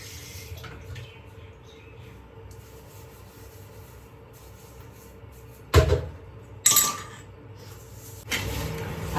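A puttu cooker vessel is washed at a sink: a quiet background hum, then a few short, sharp bursts of running water and splashing, close by.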